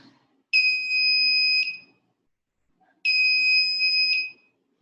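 Two identical electronic buzzer blasts from a light-sensor circuit, each a steady shrill high tone about a second long separated by a short silence, close and clear with faint background murmur.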